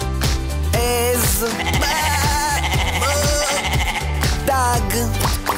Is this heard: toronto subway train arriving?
no